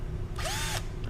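A cordless drill's motor whirs up and back down in one short trigger pull, spinning the open keyless chuck; the burst stands alone and close over a low background hum.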